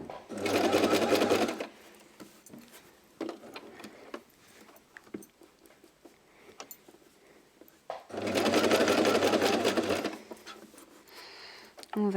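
A sewing machine stitching fabric for overalls runs in two loud, rapid bursts of about two seconds each, separated by quieter handling clicks and a voice speaking French.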